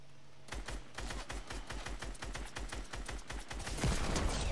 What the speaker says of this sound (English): Who are you shooting?